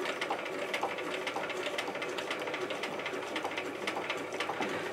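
A sewing machine hems a pair of bell-bottom jeans with a fast, continuous stitching whir, near and fairly loud, running without a break and with no talking.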